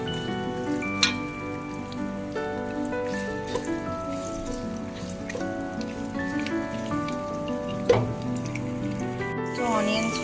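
Onions sizzle in a pan for veg biryani, a steady crackling fry under a voice, with a few sharper pops and clatters along the way.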